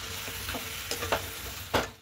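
Melting jaggery is stirred in a pan for plum pickle, making a soft sizzle with a few scraping knocks from the spoon. The scrapes land at uneven moments, and the last one is the loudest.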